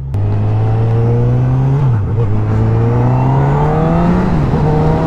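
A 2021 Honda CB1000R motorcycle engine drones loudly and close, its pitch climbing steadily, dipping briefly at a gear change, then rising again.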